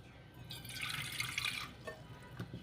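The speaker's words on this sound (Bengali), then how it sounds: "আর সামান্য একটু জল দিই" A little water is poured into a pan of fish curry, a faint close trickle and splash that runs briefly and ends with a few soft drips and clinks.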